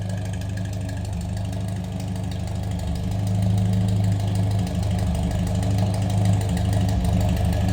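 A 1960 Nash Metropolitan Convertible engine idling steadily with a low, even rumble and slight knock, heard close from behind the car and unbroken throughout.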